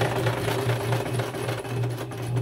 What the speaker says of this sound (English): I just love using the sewing machine to add texture.